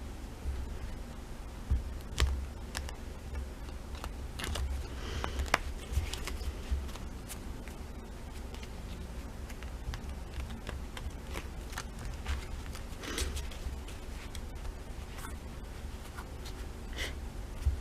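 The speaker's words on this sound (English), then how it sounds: "Gotta shuffle again." Small tarot cards are shuffled by hand, giving a continuous soft rustle broken by sharp card snaps and flicks, close and quiet, with no talking.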